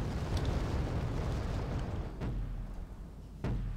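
MSTA self-propelled artillery fires in the Wargame Red Dragon strategy game, a continuous low rumble of distant bombardment broken by two sharper booming reports near the end, with no voices.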